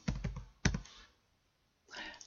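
Keys clatter on a computer keyboard in a few quick close bursts, with a pause of near silence before a final short flurry of presses, quiet overall.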